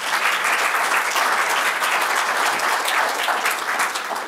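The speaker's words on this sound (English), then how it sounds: "yeah, please clap for him, please." An audience at a bird conservation talk in Bermuda claps steadily for a guest, a dense, sustained burst of applause lasting throughout and tapering slightly at the end.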